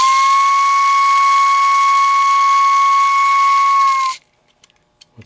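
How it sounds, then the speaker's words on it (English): A Marx or Hafner/Wyandotte windup toy locomotive whistle, blown by a squirrel cage fan, gives one loud, steady, pure whistle for about four seconds and then cuts off, leaving faint mechanical clicks. "this gear right here that causes the whistle to blow in a pattern"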